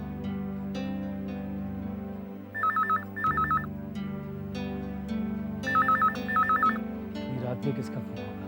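A telephone rings in two bursts of electronic double trills, each a quick warbling pair, heard over a steady background music bed indoors; a voice speaks briefly near the end.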